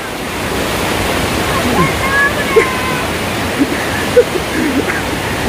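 A river flows with a broad, steady rushing wash, loud and continuous, with a few brief knocks and faint tonal sounds on top.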